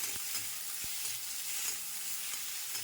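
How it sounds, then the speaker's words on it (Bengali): Food sizzles in hot oil in a pan with a few light taps of a stirring utensil, a steady close crackle with no talking. "জাস্ট একটু নাড়িয়ে চাড়িয়ে নিলাম"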